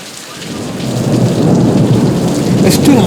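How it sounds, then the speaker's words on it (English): Hurricane with a heavy downpour and thunder, a dense roar of rain on surfaces swelling in loudness with low rumbling beneath, steady and close throughout. "I stood outside for a moment, watching the storm"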